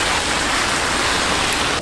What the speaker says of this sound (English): Thunder, lightning, rain.